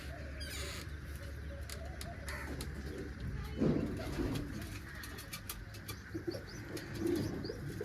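Soft cooing of pigeons with newly hatched chicks amid a steady background hum, with scattered chirps and occasional caws from other birds throughout.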